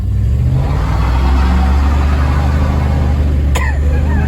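A 1969 Ford Thunderbird's engine hums steadily while cruising, a loud, continuous low rumble from inside the car with no pauses and no speech.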